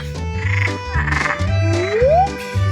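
Frog croaking loudly in a cartoon kitchen challenge, repeated croaks pulsing over a busy musical background, with a rising whistle-like tone near the end.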